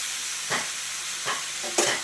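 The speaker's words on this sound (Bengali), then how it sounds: "দেখো নুন হলুদ দিয়ে কিন্তু আমি ভালো করে নাড়া দিয়ে নিয়ে দিচ্ছি" Ash gourd vegetables cooking with salt and turmeric in a pan over a steady hiss, stirred three times with short scraping sweeps at even intervals; no talk.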